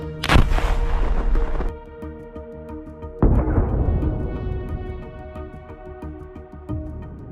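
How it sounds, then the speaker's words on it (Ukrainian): Two loud, booming gunshots several seconds apart, each with a sharp blast and a long ringing decay, followed by a softer thud near the end. "Постріл!"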